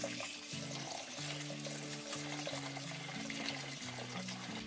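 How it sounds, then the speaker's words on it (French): Tap water runs steadily over rice being rinsed in a colander, a soft continuous splashing heard faintly beneath background music. "Avant de le cuire, il faut d'abord bien le rincer à la passoire."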